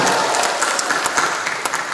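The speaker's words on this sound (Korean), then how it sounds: "박수 다시 한번 부탁드리겠습니다" A lecture audience at a Korean civic association event with a provincial governor's special talk breaks into loud, sustained applause, many hands clapping close and dense.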